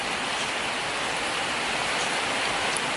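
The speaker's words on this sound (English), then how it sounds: "Oh, and here comes the rain." Rain falling outside a workshop during a torrential downpour: a dense, even hiss of drops spread across a wide range, steady and moderately quiet, with no talking.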